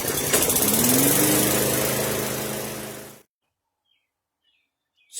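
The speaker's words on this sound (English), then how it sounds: "So we got the lawnmower to run" Lawnmower engine firing up and running with a loud, close, rough mechanical drone for about three seconds before cutting out abruptly into silence.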